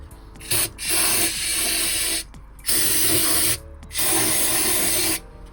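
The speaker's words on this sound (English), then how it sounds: "we're just gonna come in here with some brake clean chat, and this is gonna be messy" Brake cleaner sprayed from an aerosol can onto the differential of a 1999 Ford Mustang GT, three long loud hissing bursts separated by brief pauses, close to the microphone with no talk.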